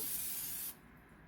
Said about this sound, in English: Let me just spray the pan.